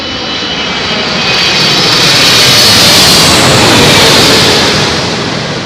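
A Virgin Atlantic Airbus A350 jet lands at London Heathrow on runway 27L, a loud, sustained engine roar that swells as it passes close by and then eases, with no talking.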